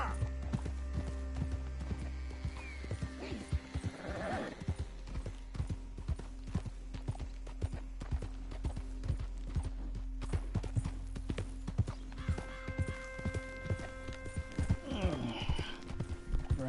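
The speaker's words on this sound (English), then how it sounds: "Riding some next man horse" Horse hooves clip-clop steadily as a rider travels in Red Dead Redemption 2, a continuous rhythmic beat with a couple of brief whinnies rising over the gait.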